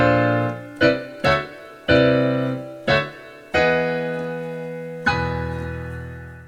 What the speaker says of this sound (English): If you play a group of minor 9th chords and move them in parallel motion,